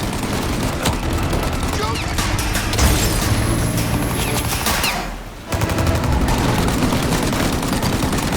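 In a shootout from the Mafia video game, loud, dense gunfire rattles almost without pause, with overlapping bursts and booms. A short lull comes midway before the firing resumes just as heavily.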